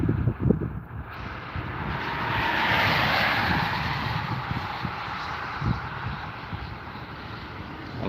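A propeller airplane from a four-aircraft formation at an air show rumbles past, its engine drone swelling and fading with wind buffeting in the open air.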